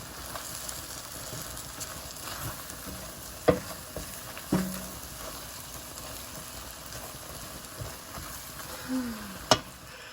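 Beans and salsa cooking in a pan over high heat give a soft, steady sizzle that goes on throughout, broken by a few sharp clinks of a utensil against the pan.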